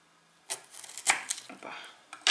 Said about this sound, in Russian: Обычно, кстати, я всегда так груши режу.